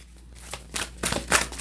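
Crystals being shuffled and clinking together before a tarot reading, a few short bright rattling bursts growing louder toward the end, close and alone with no talk.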